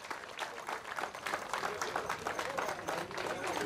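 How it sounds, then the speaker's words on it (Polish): Audience applauding at a football memorial tournament, steady dense clapping from a crowd throughout, fairly distant and even in level. "Wielkie brawa za Bożonka Zaberze."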